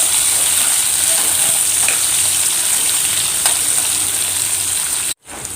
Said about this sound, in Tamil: இப்போ வெங்காயம் சேர்த்துருவோம்